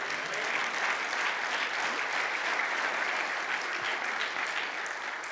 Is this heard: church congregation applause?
yes